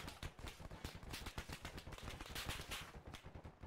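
Rapid, sustained automatic gunfire from Arma 3 combat, dense overlapping bursts of shots that stay loud and continuous throughout with no pause and no talking.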